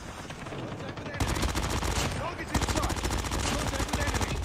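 Rapid automatic fire from the MX9 submachine gun in the video game Call of Duty Mobile, starting after about a second of quieter game ambience, then sustained loud bursts with a brief break midway.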